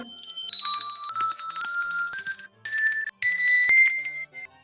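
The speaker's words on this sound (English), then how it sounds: "Everybody ring the bell." Several handbells ring together in a children's Sunday school group, bright overlapping tones with clangs and short gaps, fairly close and loud, lasting several seconds.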